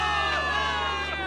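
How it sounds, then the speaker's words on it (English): A crowd of soldiers in the Zenless Zone Zero video game cheers and whoops in a dense, sustained roar that stays loud and steady for about a second. "Give it up for yourselves, soldiers! Cheer for victory!"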